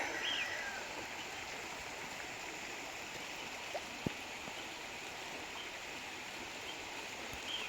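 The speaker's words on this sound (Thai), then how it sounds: "บรรยากาศยามฝนพี่น้องเอ้ยประมาณนี้เนาะ" Steady, soft rainfall hisses evenly throughout, with a couple of faint isolated drips standing out.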